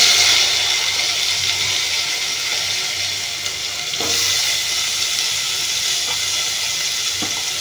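Bitter gourd pieces sizzle in hot oil with turmeric in a pan, a steady, fairly loud hiss that runs unbroken with a few faint clinks.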